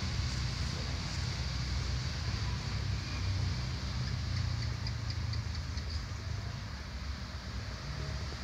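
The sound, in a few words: motorcycle engine noise beside a road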